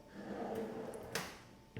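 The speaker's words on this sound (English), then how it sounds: "we have got the drawer for pots and pans or whatever you want" A kitchen drawer for pots and pans in a modern prefab home, sliding and bumping shut with one sharp clack near the end over a low background hum.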